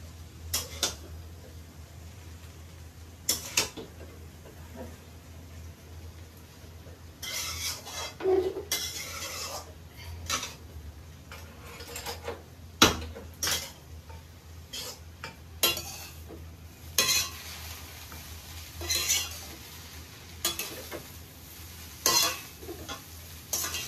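Egg chowmein noodles are stirred in a pan with a utensil, producing a soft background sizzle punctuated by intermittent scraping and clinking strokes at irregular intervals, close and without voices.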